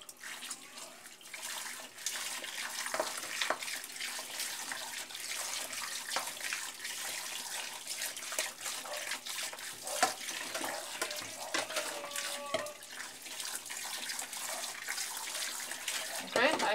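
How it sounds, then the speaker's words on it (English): A bowl is washed inside and out under a running kitchen tap, giving a continuous hiss of flowing water with splashes and shifting gurgles as the bowl moves through the stream, close and steady. "I wash the bowl everywhere, inside, outside."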